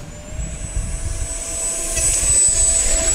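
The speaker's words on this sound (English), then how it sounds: "That sounded like my fan might have ingested something. Do you hear that little whoop?" An FMS Rafale RC jet with a ducted fan flies past, giving a steady loud whining rush with a high pitched tone that swells slightly as it nears, no talk.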